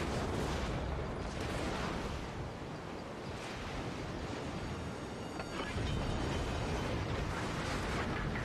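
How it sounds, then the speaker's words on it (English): Heavy naval gunfire from battleships in World of Warships rumbles in a dense, continuous roar of booms and blasts, loud and sustained throughout with no clear pauses. "being fired at from two directions, this is going to be messy"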